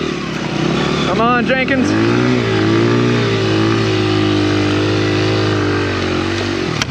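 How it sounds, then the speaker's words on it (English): Dirt bike engines rev loudly and continuously while riding through snow and swampy ground, with pitch rising and falling as the throttle changes and someone shouting briefly over the noise. "We're just out doing some skidooing on the dirt bikes."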